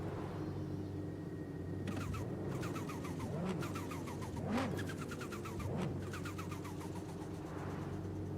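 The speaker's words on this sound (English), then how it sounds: "That blow-off valve sound is crazy." A tuned car in Forza Horizon 5 lets off its blow-off valve with sharp whooshing bursts over a steady engine drone, loud and close, several releases in a row.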